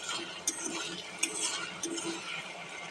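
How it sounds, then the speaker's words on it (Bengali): Meat being stirred in a hot pan, with soft scraping and clinking of utensil against metal over a steady sizzle, a few sharper clinks standing out close by. "এবার আমি এই মাংসের এটা দিয়ে দেবো। ভালোভাবে এখন নেড়ে নেব।"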